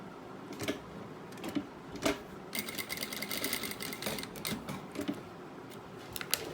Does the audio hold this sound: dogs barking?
no